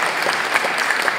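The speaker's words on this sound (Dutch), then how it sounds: "ja, applaus inderdaad." Dense, even applause from an audience at an art and glitch event fills the space with a continuous crackle of many hands clapping, fairly loud and without pauses.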